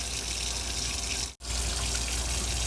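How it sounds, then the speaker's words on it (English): Water running steadily into a CamelBak-style hydration bladder, a continuous close gushing hiss, briefly cut off for an instant midway before resuming at the same level. "Gotta fill up my camel pack."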